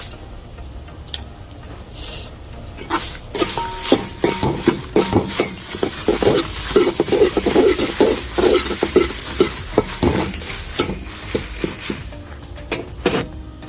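Curry leaves dry-roasting in a pan while being stirred, with repeated scraping and rustling strokes and faint crackle, steady and close, growing busier through the middle.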